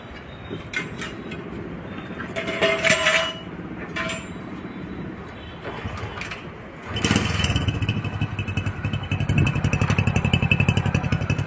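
A vehicle engine fitted with a freshly repaired silencer revs with a few short bursts, then settles into a loud, steady, pulsing run in the second half, close to the listener and with no talking.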